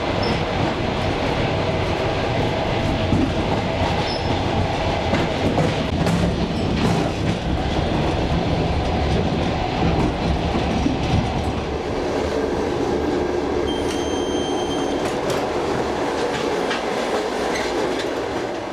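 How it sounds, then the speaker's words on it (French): The Trans-Siberian train rolls on its rails as it heads south along the Chinese border, a steady loud rumble with rhythmic clickety-clack of wheels over rail joints and occasional faint squeals. "le transsibérien plonge vers le sud en longeant la frontière chinoise."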